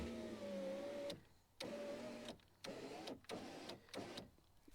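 A replacement regulator motor in a Chevy power window whirs steadily as it lowers the glass, running in several separate bursts with short quiet gaps between them, close and fairly loud.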